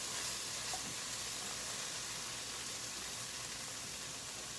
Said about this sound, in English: you can hear it slowing down, so it's just about done sizzling.